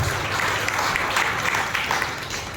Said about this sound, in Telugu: మరొకసారి బిగ్గరగా చప్పట్లు కొట్టి